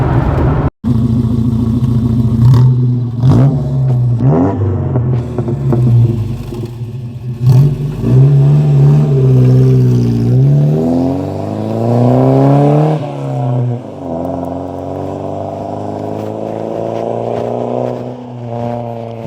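Modified Volvo 240 engine pulling hard while driving, revs climbing and falling in repeated surges with strong rising harmonics, loud and close from inside the car, no talking.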